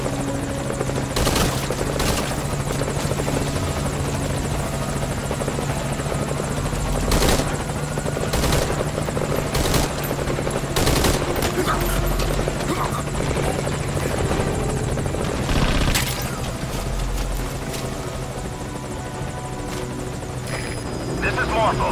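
Helicopter in Metal Gear Solid V: Ground Zeroes, a steady loud rotor drone throughout, with bursts of gunfire and impacts breaking in over it as the chopper takes fire and damage.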